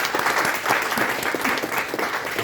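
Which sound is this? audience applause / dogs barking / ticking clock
audience applause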